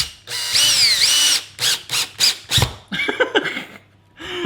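A screw is driven through a pizza into a board in short, close whirring bursts, like a small power driver starting and stopping several times with brief pauses between.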